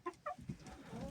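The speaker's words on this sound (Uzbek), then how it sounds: "Yangi Adlerska Serebrisda tovuq oldim hozir" Adler Silver chicken clucking close by, a few short clucks in quick succession followed by softer low murmuring calls, with no talk.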